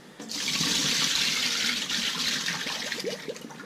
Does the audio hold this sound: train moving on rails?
no